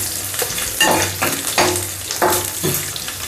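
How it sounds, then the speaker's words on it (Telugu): Garlic, cumin, dried chillies and curry leaves fry with a loud, close sizzle, broken by about five rhythmic stirring strokes and with no talk. "వెల్లుల్లి, జీలకర్ర, ఎండుమిరపకాయలు, కరివేపాకు ఇవి కాస్త వేగనివ్వండి."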